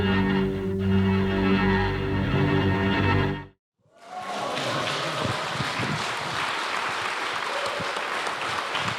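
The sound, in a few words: audience applause at a horror convention panel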